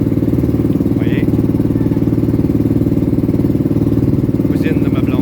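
A boat engine runs steadily at sea, a loud, even drone with a fast regular pulse that holds for the whole stretch, with faint voices briefly audible over it.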